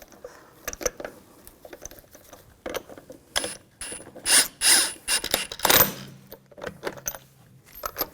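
Lug bolts being threaded by hand onto the front hub of a 2000-2006 BMW X5 during a strut replacement, with close, intermittent metallic clicks and ratcheting scrapes in short bursts.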